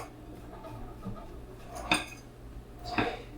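Muffin batter for double chocolate banana muffins is mixed in a bowl. It sounds quiet and soft, with two distinct clinks of a utensil against the bowl near the end.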